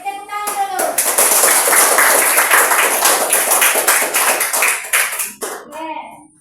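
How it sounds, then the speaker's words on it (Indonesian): A classroom of students claps together in a dense, lively burst for several seconds, tapering off near the end as a teacher's voice and children's chatter come through. "Kita tepuk tangan dulu."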